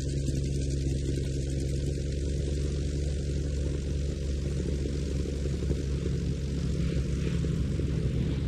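Piston engines of the B-17 Flying Fortress Sally B droning steadily in flight at a Duxford flying evening, a loud continuous propeller hum that holds without a break and with no voices.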